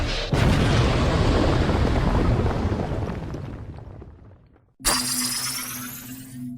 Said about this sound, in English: There was supposed to be an earth-shattering kaboom.